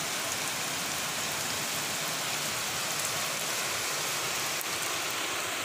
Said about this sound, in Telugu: వర్షం జోరుగా ఉన్నది ఈరోజు, ఫుల్ వర్షం.